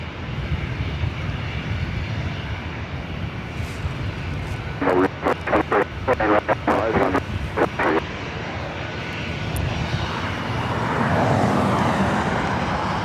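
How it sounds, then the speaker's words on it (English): An old ex-Northwest Delta Airlines A320 jet bound for SFO roars steadily at LAX, a continuous broadband engine drone that swells toward the end, with a burst of clicking and faint talk midway. "This flight heading to SFO, Delta Airlines Flight 1403 in this old Northwest A320"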